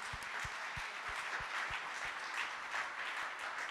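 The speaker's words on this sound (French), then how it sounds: "On vous applaudit toutes et tous." An audience at an environment and climate awards evening applauds everyone, a soft, steady wash of clapping heard from a distance.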